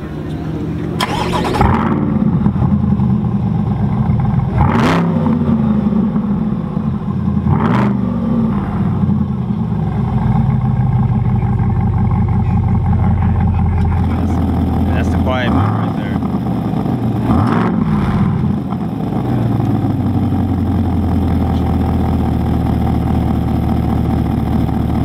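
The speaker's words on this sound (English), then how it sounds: "this is a BB exhaust on a C8 Corvette." A C8 Corvette's loud aftermarket BB exhaust revs repeatedly, sharp bursts rising and falling over a rumbling idle, with some talking mixed in.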